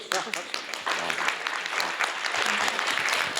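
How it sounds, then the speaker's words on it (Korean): An audience at a 2016 Jeju Forum session on the Korean beauty industry breaks into dense, sustained applause, many hands clapping close together at full strength, with a speaker's voice running over the clapping. "박수 한번 치시죠, 박수."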